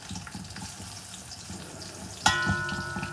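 Onions drop into a hot pan of cumin seeds, and a sudden louder sizzle flares up and keeps hissing steadily over the quieter frying that came before.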